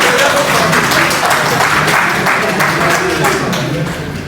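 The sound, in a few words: applause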